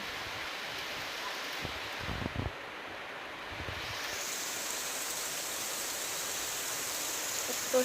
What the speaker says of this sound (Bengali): সুন্দর ঝমঝম করে বৃষ্টি পড়তেছে